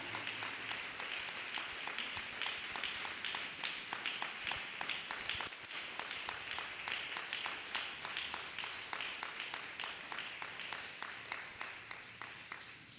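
A church congregation claps hands together for a sustained stretch, a steady rhythmic patter of many hands at moderate distance with no talk over it.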